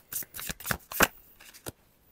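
Tarot cards are shuffled and squared up by hand in quick riffling bursts, close and crisp, several short flurries followed by a final tap, then quiet.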